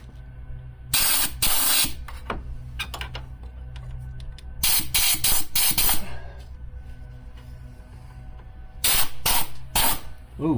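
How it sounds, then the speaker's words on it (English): Compressed air blasts into the intake of a Nissan Frontier during an intake spacer install, coming in three loud hissing bursts separated by quieter workshop stretches, close to the listener. "we're gonna blow some air in there."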